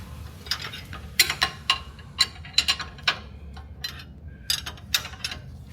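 Wrench loosening bolts on a 2025 Toyota Tundra, a series of sharp metallic ratchet clicks in irregular bursts, close and clear over low background rumble.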